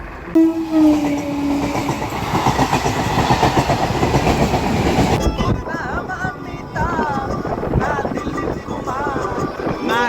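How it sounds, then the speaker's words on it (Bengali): A train rumbles and clatters past close by at a level crossing, wheels clacking steadily over the rails, with wind buffeting and faint voices in the background. "ট্রেনটা যাবে কতক্ষণে যাবে"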